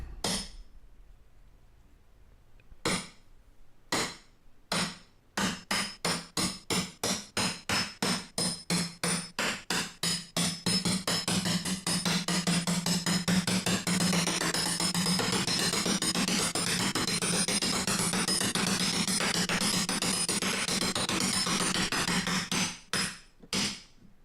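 A hammer taps indentations into a dance pad frame ahead of drilling: a few spaced single strikes, then a quickening series that merges into a long, loud, rapid run of metallic blows before slowing to a last handful of hits.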